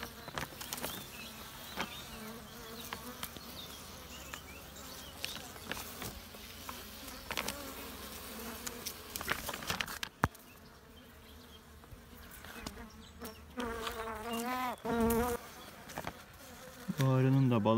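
Honey bees buzz steadily around an opened hive whose honey is being taken, a dense close drone with brief louder passes near the microphone and occasional handling knocks, no talking.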